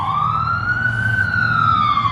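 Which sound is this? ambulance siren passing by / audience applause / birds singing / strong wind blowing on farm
ambulance siren passing by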